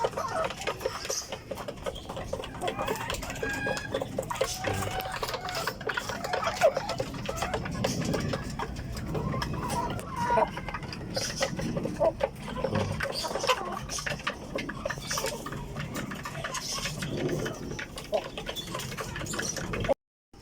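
Native breeder chickens feed busily, their soft clucks and scratching pecks forming a steady, dense patter close by through the whole stretch, with a few faint voices mixed in.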